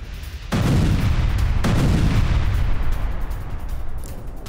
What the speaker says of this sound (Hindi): हिजबुल्ला के हथियार डिपो पर हवाई हमला हुआ है